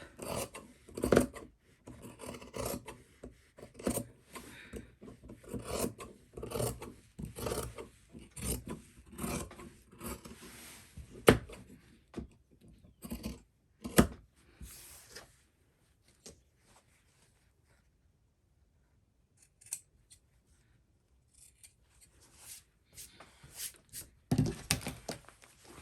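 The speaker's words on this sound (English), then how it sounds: "go ahead and start trimming off that excess" Scissors snipping off excess fabric at the top of an attached garment collar, a run of crisp close cuts in quick succession, then a quiet pause and a few scattered final snips.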